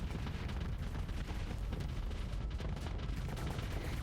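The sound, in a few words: Hellbore cannons firing in video game Starsector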